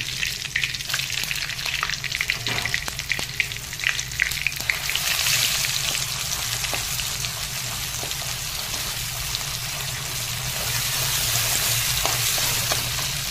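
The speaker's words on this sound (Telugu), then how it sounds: "కారం కొంచెం పచ్చి వాసన పోయేంత వరకు ఫ్రై చేసుకున్నాం" Steady, close sizzling of chili powder and curry leaves frying in hot oil, a dense hiss with occasional crackles and spoon scrapes, no voices.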